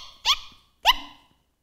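A person imitates a small dog's yip to catch the attention of dogs during a family portrait shoot: two sharp, high yips about half a second apart, close and loud against a quiet background.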